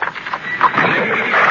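A horse pulling an 1880 Manhattan cab lets out a whinny amid hoof clatter, fairly loud and close throughout a short busy stretch of sound, with no talk.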